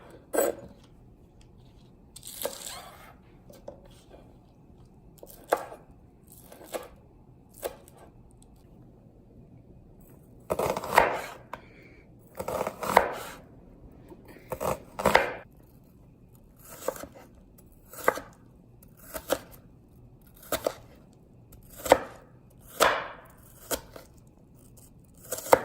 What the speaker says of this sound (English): now I'm going to cut the onion and the scallions and prepare them to go into the broth